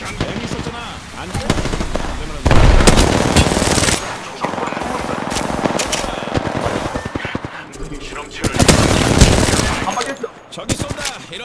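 Sustained automatic weapon fire in the battle royale game Apex Legends, with loud bursts and rapid shot trains that swell and fade, while players talk excitedly over the gunfire.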